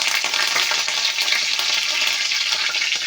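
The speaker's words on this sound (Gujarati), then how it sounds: "ઘી ગરમ થાય ત્યારે આપણે તેમાં જીરું એડ કરીશું" Cumin seeds sizzle hard in hot ghee in a pan, a dense, steady, loud crackling hiss that carries unbroken throughout, close up with no voices.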